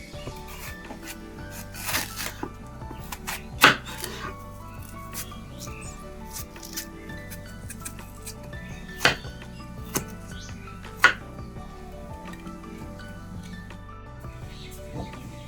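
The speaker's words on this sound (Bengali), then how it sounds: "এবার তরমুজটা একটু কাটবো এবছরে আমার প্রথম তরমুজ এটা" A knife cuts into a watermelon, giving quiet, scattered crisp cuts and a few sharper cracks over a faint background.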